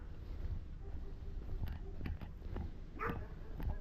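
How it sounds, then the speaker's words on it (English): Dog barking outdoors along a winter neighbourhood walk, a few short yips and barks at a moderate distance over steady outdoor background noise and footsteps. "oh, we got another dog over here."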